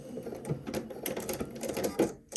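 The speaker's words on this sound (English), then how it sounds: "And I'm just sewing right along that seam line to tack that facing in place." A domestic sewing machine runs steadily along a seam line, tacking a facing in place on a dress, with a fast continuous mechanical chatter and small speed changes before it stops briefly near the end.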